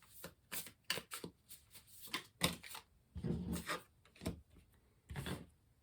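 Tarot cards being shuffled close up in quick riffles and slaps, irregular bursts separated by brief pauses, fairly quiet.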